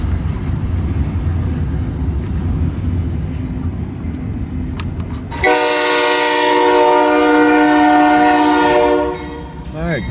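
A BNSF freight train horn sounds loud and sustained with rich harmonic tones for several seconds in Fremont, Nebraska, over the low rumble of the passing freight train, then fades.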